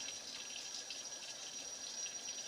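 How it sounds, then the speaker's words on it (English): Steady hiss of running water from a kitchen tap as a clam is scrubbed under the stream, a continuous wash with no voices heard. "we do want to give him a good scrub just like this"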